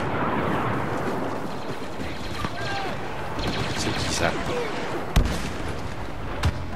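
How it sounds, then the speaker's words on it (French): Dense gunfire in Star Wars Battlefront multiplayer on the Battle of Jakku map, continuous rattling blaster bursts with a couple of sharper nearer shots standing out, steady and loud throughout. "Ça canarde là, ça canarde."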